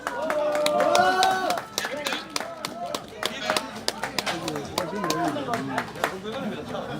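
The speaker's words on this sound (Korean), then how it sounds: "박수 쳐주세요." Applause for a speaker at an outdoor rally in front of former president Chun Doo-hwan's Yeonhui-dong residence: scattered sharp claps from a nearby crowd, mixed with overlapping voices and chatter throughout.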